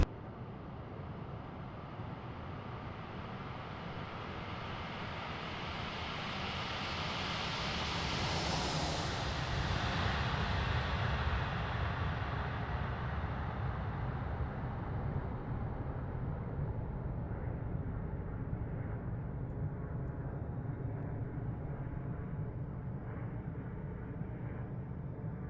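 Airliner jet engines roar up for takeoff in a flight simulator, a broad steady rush that builds into a rising whine and then settles into a sustained low roar, fairly quiet and distant.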